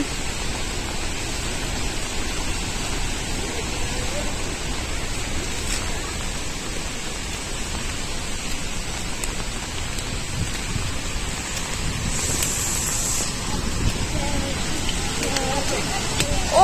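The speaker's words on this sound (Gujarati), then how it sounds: "જો અહીંયા સુધી જણ ઉડે છે એટલે આખા ભીંજાઈ જાય અને આ છે વોટરફોલ" The Hervalem waterfall in Goa roars steadily in the rain, a dense continuous rushing wash of falling water heard up close for the whole stretch, loud and unbroken.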